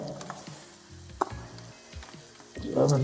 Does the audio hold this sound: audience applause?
no